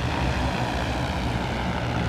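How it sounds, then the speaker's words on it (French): A small drone, a mini helicopter, buzzes with a loud, steady engine drone like a big lawn mower, holding constant and close for the whole moment with no voices. "remplir l'espace aérien de mini-hélicos qui font un bruit de bonne grosse tondeuse à gazon"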